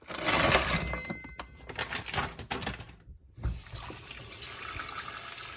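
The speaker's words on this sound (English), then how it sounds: "what I'm going to do is put them in cold water and leave them for a while to defrost" Cold tap water runs steadily into a bowl of frozen shrimp for defrosting, a close splashing flow that briefly drops out near the middle before resuming.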